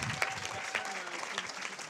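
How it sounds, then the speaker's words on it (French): An audience at a Corewar programming championship event gives brief, fairly soft applause for two competing teams, with a few sharper claps standing out and a murmur of voices underneath. "Ils sont là, on applaudit bien fort les deux."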